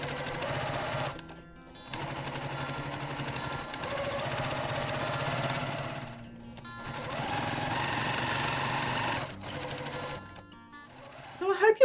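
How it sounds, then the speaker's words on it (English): A domestic sewing machine stitches the borders onto a baby quilt, running steadily in several long runs with brief pauses between them, close and loud, followed by a short final burst. "I'll sew these two sides on and then I'll sew the top and the bottom"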